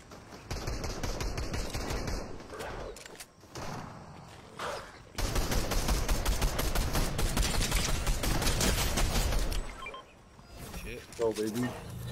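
A video game shootout with sustained automatic gunfire and bursts of shots, dense for several seconds. Players talk loudly over the firing.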